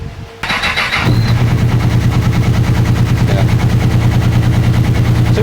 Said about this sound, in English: just want to see if it'll even attempt to start on two cylinders